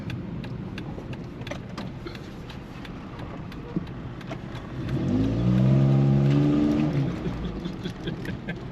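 Denny's soft-top off-road vehicle drives past nearby on a dirt trail, its engine rising to a loud revving swell midway before fading, with faint voices in the background.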